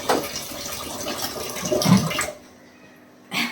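Water gushes and splashes hard from an Aquaguard water purifier tap for about two seconds, then cuts off into near silence before a short final burst of splashing.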